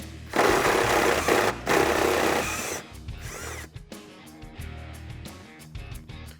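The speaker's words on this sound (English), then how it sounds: "Now with our T50, we're going to take out the center bolt right here." A power tool driving a T50 bit spins out the center rear seat belt bolt in a Mustang, loud steady whirring for the first few seconds with a brief break, then quieter clicks and clatter of the bolt and tools.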